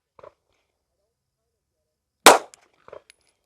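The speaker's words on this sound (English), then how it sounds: "the first shot might be a telltale sign" A single sharp rifle shot on a shooting range, from a rifle fitted with a GPO Spectra reflex dot sight, cracks loudly and close, decaying quickly, with faint clicks of handling before and after.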